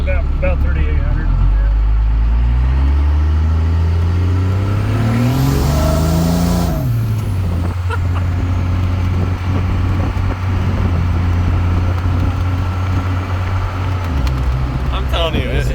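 A stock first-generation car engine revs up to about 4,000 RPM, climbing steadily, then settles into a loud, sustained idle-like drone that continues to the end, heard up close with people talking over it.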